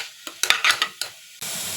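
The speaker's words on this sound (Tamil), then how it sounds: "காய்கறி எல்லாமே நான் லோ ஃப்ளேமில் தான் வச்சு வதக்கிட்டு இருக்கேன்." Vegetables for spinach stem soup sautéing in a pan over a low flame, with short stirring scrapes and clinks that give way to a steady soft sizzle near the end.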